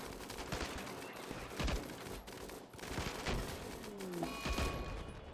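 A minigun fires in a video game, a sustained rapid clatter that stays loud and dense through the clip and breaks only briefly, with mechanical whirring underneath.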